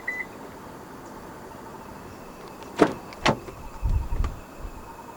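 A 2024 Honda City 1.5 V locking through its keyless entry: two quick sharp beeps come close together, followed by a low clunk of the lock mechanism, set against quiet ambient background.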